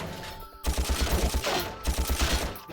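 Enemy gunfire in Ratchet and Clank (2002) on the Eudora level: two rapid bursts of rhythmic, evenly spaced shots, loud and close, over a steady game soundscape.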